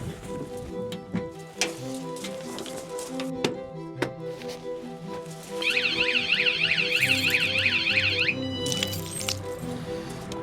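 A warbling electronic Armourguard security alarm starts partway through and wails steadily and loudly over background clinks and tonal game sounds.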